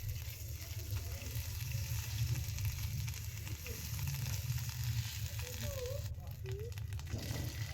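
Garlic, ginger and cumin paste sizzles with onion in a pan for Bengali pabda fish curry, a steady close frying crackle with light stirring scrapes and a brief clink near the end.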